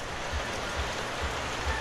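Steady light rain patters at a camping site as it begins to ease off, a soft even hiss with faint low thumps of drops landing on a nearby surface.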